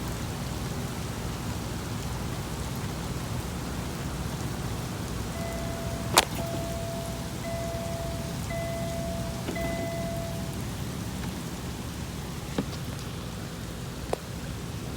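Steady early-morning rain from a June thunderstorm in Advance, North Carolina, a continuous hiss with a few sharp drips or taps close by and no voices.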